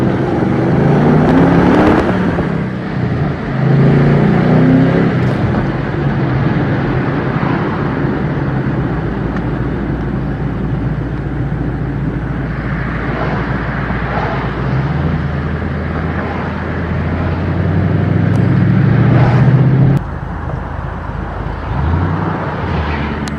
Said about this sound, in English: I love that V8